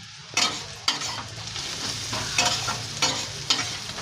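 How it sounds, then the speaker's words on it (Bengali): Sliced onions fry in hot oil for biryani beresta, a continuous close sizzle broken by several sharp bursts and scrapes as the pan is stirred. "এখন পেঁয়াজের বেরেস্তাটা ভাজছি"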